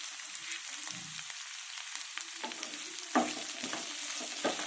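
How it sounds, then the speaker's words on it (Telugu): Bitter gourd with green chillies and curry leaves frying in hot oil, a steady close sizzle with occasional stirring clatter and sputtering pops. "ఇవి బాగా ఫ్రై అవ్వాలి."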